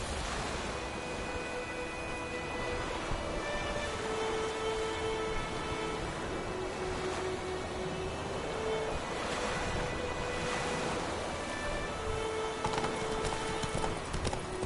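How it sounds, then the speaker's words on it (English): A horse's hooves clip-clop steadily in The Witcher 3 video game, a continuous even trot under wind and faint ambient tones, with no talking. "Whoa there, Roach."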